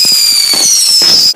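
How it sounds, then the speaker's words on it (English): Bonfire night fireworks crackle loudly and close in a rapid cluster of bangs over a high whistling screech, ending abruptly. "Firework."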